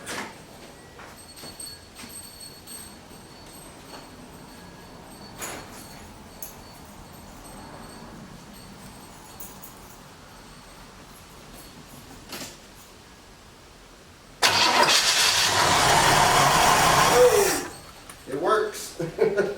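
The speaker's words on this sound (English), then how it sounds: "So we know the original fuel pump worked." Original mechanical fuel pump on a 1973 Chevy Nova, silent through a long stretch of quiet talk, then a loud, steady whirring buzz for about three seconds before it cuts off.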